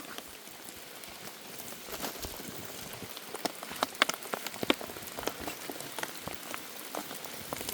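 Steady rain falls on the ground during the monsoon season outdoors, with continuous patter and scattered louder drops close by and no talking.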